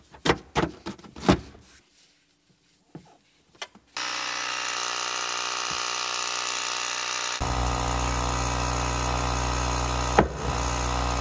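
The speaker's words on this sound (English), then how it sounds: "using the Ryobi power inflator, we're going to plug it in, pump up the ball" A Ryobi power inflator pumps up a ball to push a dent out of a car body: a few short bumps, then a steady loud motor drone that deepens and strengthens partway through, with no talk.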